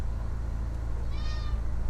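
A house cat meows in one short, rising call partway through, heard over the steady low engine drone of a flight simulator landing approach at 70 knots with flaps set to 20 degrees.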